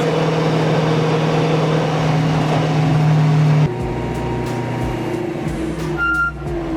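A BMW M3 E92 driven hard on a street nearby: a loud, sustained engine drone holds steady, then drops abruptly to a lower, quieter note partway through, as if the revs fall or a gear changes. No one speaks.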